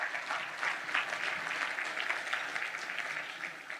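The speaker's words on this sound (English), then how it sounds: "Please give them a round of applause" Steady applause fills a Democratic State Committee meeting, an even wash of clapping from the assembled crowd sustained for several seconds without talk.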